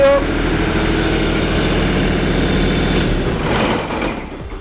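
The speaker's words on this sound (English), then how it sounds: "we know that this works because you can hear the motor" A small tractor hydraulic pump motor whirs steadily at close range with a buzzing, mechanical drone, easing off slightly toward the end.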